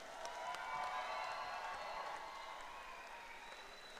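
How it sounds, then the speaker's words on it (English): Audience applause and some cheering rise at ringside after a K1 amateur world title kickboxing bout in Bournemouth, a fairly distant crowd sound that swells early then gradually eases off. "A round of applause for these warriors."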